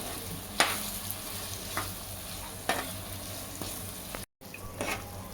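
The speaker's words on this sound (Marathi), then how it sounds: "टमाटे चांगल्या रीतीने परतून झाले आहेत व्यवस्थित" Tomatoes sautéing in a pan for pav bhaji give a steady close sizzle, with several sharp spoon-against-pan stirring scrapes and a brief dropout near the end.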